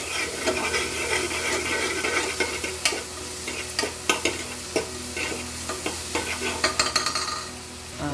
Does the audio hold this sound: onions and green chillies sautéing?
yes